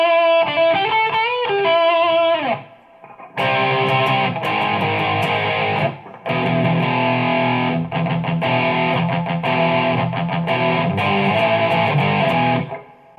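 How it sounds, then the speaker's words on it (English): Heavily distorted electric guitar lead played through a Line 6 Amplifi 150 amp, loud and sustained with dense chugging riffs and short pauses, no talking. "We have another heavier distortion for some of those solo leads and stuff to really help you break through the rest of the band"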